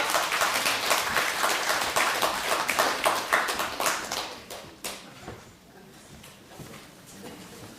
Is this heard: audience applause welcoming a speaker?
yes